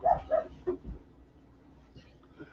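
Dogs barking indoors, a few short close barks at the start trailing off into quieter yips and whimpers.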